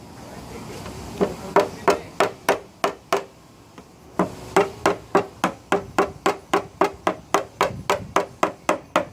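A hammer taps repeatedly in a fast, steady rhythm, working out a dent on a 2014 Subaru, close and crisp, pausing briefly before resuming with dozens more even strikes.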